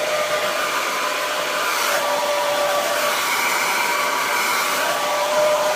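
A hair dryer on its cool shot setting blows steadily with a constant airy whir, close and loud, running without pause the whole time.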